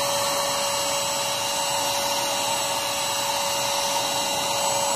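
Mains-powered and cordless vacuum cleaners drawing up coarse salt spread through hair, a steady, loud broadband motor roar with a constant whine, unbroken throughout.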